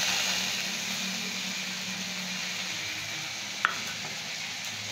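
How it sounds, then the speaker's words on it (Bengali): Dried red chilies, green chilies and mustard seeds sizzle in hot oil, giving a steady close hiss that runs without a break and ends with a single small sharp pop. "ফোড়নে 2টো শুকনো লঙ্কা, তারপরে 2টো কাঁচা লঙ্কা, আর সর্ষে ফোড়ন"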